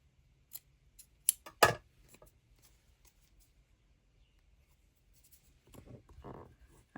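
Scissors snip through paper and cheesecloth while trimming a junk-journal specimen-slide craft, giving a few sharp, close cuts near the start and then quiet handling and rustling toward the end.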